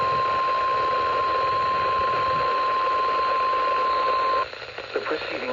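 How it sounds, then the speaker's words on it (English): A NOAA weather radio warning alarm test tone sounds as one steady, loud, unbroken pitch over radio static, then cuts off and leaves only faint broadcast noise. "The preceding was a test of NOAA weather radio station WWF76's warning alarm systems."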